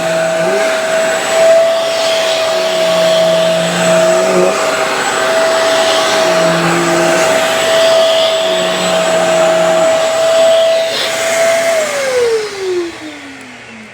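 A Shark Carpet Xpert carpet cleaner runs in dry-only suction mode, a loud, steady whine with shifting motor tones that winds down sharply at the end.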